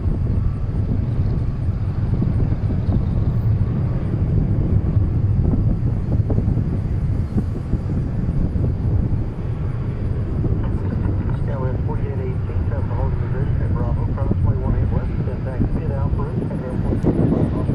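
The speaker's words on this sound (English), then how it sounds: "Short takeoff. Let's see how steep the climb is." An airliner makes a short takeoff and steep climb at DFW airport: a loud, continuous broadband engine roar with wind buffeting the microphone, and voices talking over it throughout.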